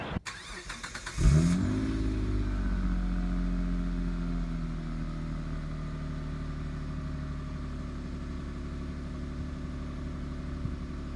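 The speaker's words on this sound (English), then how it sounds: "I'll also put in a cold start exhaust clip here so you can hear what the vehicle sounds like" A 2000 Mitsubishi Eclipse GT engine cold-starts, cranking briefly, catching and revving up, then settles into a steady, fairly loud exhaust idle that drones on for several seconds.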